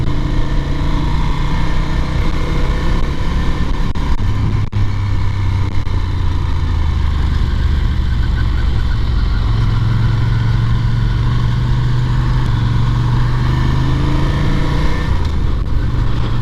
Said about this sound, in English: So riding the Ducati today to work, strangely enough, because it seems the more reliable of my 2 bikes.